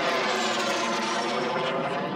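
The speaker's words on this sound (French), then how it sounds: "Les uns après les autres, les avions transpercent le ciel." Airplanes pass overhead one after another during a general rehearsal for an air parade at Châteaudun, a steady loud engine roar filling the whole stretch without speech.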